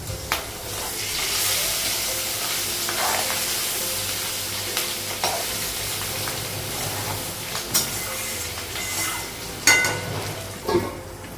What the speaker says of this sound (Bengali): মাছের ডিমগুলো ভাজলে খুব ফোটে